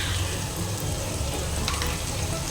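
Spice masala sizzles and fries steadily in a hot pan for dal dhokli, a dense close crackle with faint stirring scrapes, no voices.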